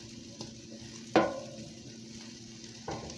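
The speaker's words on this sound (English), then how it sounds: "now I've turned them over again and mashing them" Homemade hamburger patties sizzle in a pan at close range, with a sharp spatula clack partway through and a couple of softer pressing and scraping sounds as they are flipped and mashed.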